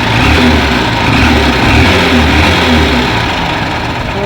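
A Honda Shine motorcycle engine with a timing chain problem runs loud and close, a steady throbbing idle with a rough rattling, ticking texture throughout.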